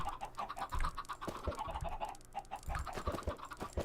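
Clucking chickens in a game, short repeated clucks and low thumps over a steady busy background, fairly faint.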